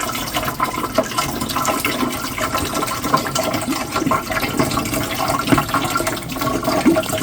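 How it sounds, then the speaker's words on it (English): Water splashes and pours while an indoor greenhouse humidifier that holds six liters is being filled, giving a close, continuous rushing and spattering sound for several seconds. "Oh, Lord, I'm spilling the water."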